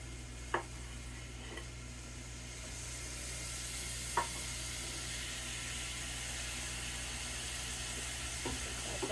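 Pork fries in a pan with a steady, faint sizzle and hiss, and a few soft clicks and taps come as diced tomato is added, with no voices.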